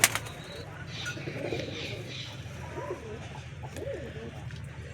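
Domestic pigeons kept in a loft coo softly in low, rolling calls, a few distinct coos against a faint background, with someone talking nearby.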